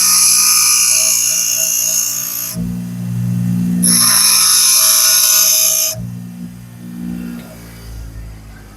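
A drill bit grinds into steel in two long high-pitched bursts separated by lower motor whirring, loud and close, with a shorter burst at the end.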